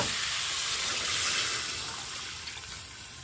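Water poured into a pot of browned lamb and onion gives a loud rushing hiss and sizzle up close that gradually settles and softens over a few seconds, with no talk.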